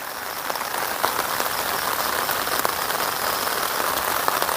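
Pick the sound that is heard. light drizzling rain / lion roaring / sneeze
light drizzling rain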